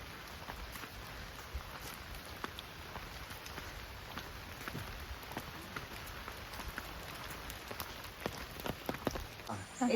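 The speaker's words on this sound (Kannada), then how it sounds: "ಇವಾಗ ಮಳೆ ಬರ್ತಾ ಇದೆ" Light rain falling outdoors, with a soft, steady patter of scattered drops on surfaces, faint and continuous throughout.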